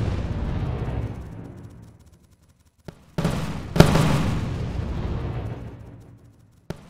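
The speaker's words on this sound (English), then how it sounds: "Oh my god, there's a freaking cannon." Cannon fire in the alpha build of the video game M.A.V., heavy booming blasts with long rumbling decays, one after another, loud and close with no talk over them.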